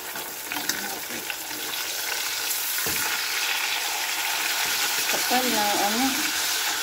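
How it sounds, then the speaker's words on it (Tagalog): Thick pork chop slices frying in a pan, a steady bright sizzle throughout with a few clinks, and a person talking briefly near the end. "Ayan, sa ating iprito lang siya."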